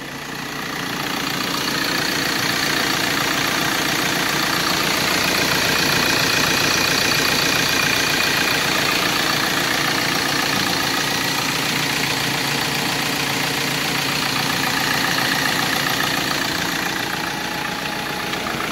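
A used Ford Transit van's engine idles steadily, a close, even mechanical drone with a faint ticking rhythm that holds for the whole stretch without voices.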